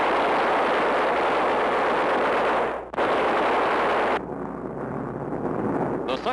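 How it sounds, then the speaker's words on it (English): Loud, dense roar of machine-gun fire and engine noise from a bomber strafing a freighter in 1943 newsreel footage, cutting out abruptly midway before a quieter rumble resumes. "The big bomber roars down and rakes the ship from stem to stern."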